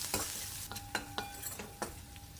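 Crushed garlic cloves and chopped green chilies sizzle in hot oil in a pan, a close crackling hiss punctuated by a quick series of sharp spatters and scraping stirs.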